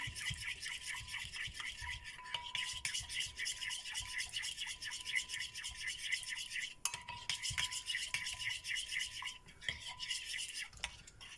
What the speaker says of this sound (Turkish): Kaşımla iyice bunu böyle içinde eritelim.